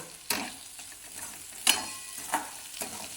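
Tomatoes with salt being sautéed in a pan, a soft sizzle with a few separate scraping strokes of a spoon stirring at intervals, close and fairly quiet.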